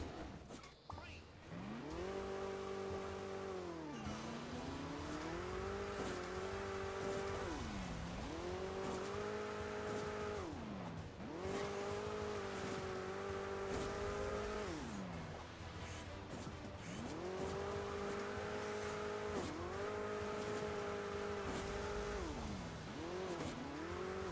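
A game car engine in Hill Climb Racing 2 drones continuously, its pitch repeatedly climbing and dropping in a steady rev cycle that stays loud throughout.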